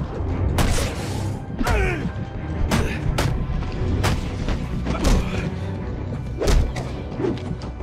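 Repeated heavy thuds and impact hits from Batman: Arkham Origins, several punches landing on enemies amid busy effects and a voice talking over them.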